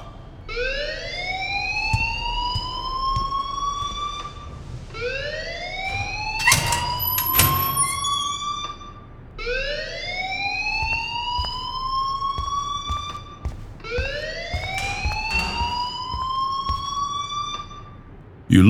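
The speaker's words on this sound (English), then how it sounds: "please turn off that alarm" Fire alarm in Life is Strange, sounding as a repeating rising electronic whoop, four long sweeps in a steady cycle, loud and continuous with faint background noise beneath.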